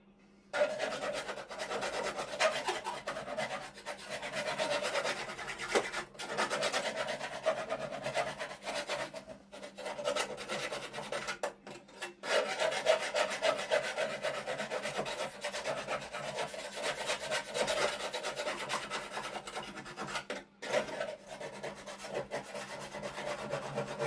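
Cut-down saw blade scraping rust from rotten metal on a camper van, a continuous harsh rasping drag with uneven strokes and brief pauses, close and fairly loud with no talk.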